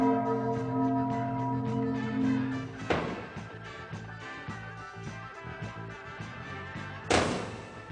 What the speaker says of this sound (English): now, it's chime time.